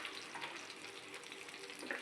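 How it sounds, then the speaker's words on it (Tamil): Garlic, dried chili and shallot sautéing in a pan give off a faint, steady, hissing sizzle with no talking. "நல்லா வதக்க விடுங்க."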